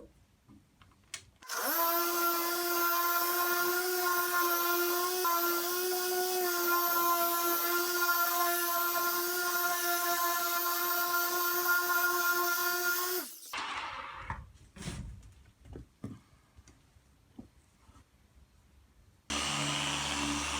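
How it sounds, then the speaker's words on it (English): A cheap dual-action polisher with a red polishing head works over Nissan paint, giving a steady, loud whirring drone with a clear tonal hum for about twelve seconds before cutting off, leaving faint handling noises and a brief burst at the end. "I'm going to go over again with the same polish with the red polishing head"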